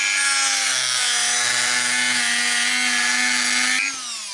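Cutting tool slicing open the potted plastic casing of a Lenovo USB-C power supply, a loud, steady, high-pitched grinding whine that holds for almost four seconds before dropping away abruptly.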